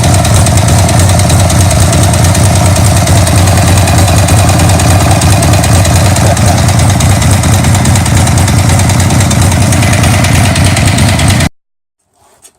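A Harley-Davidson motorcycle engine rumbles steadily and loudly on a chilly night ride, a close, continuous throbbing drone with wind that cuts off abruptly near the end, leaving near silence.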